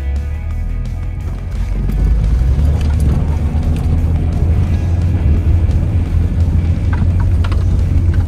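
A Peugeot 406 Safari climbs a steep off-road hill under throttle, its engine drone steady and loud beneath rattling and clattering from the bumpy track, close up in the cabin.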